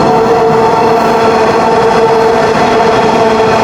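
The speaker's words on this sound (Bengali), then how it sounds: "মেট্রো রেল চলে আসছে।" A metro rail train arrives at a station in Dhaka, producing a loud, continuous roar and rumble that stays steady throughout, with no voices heard over it.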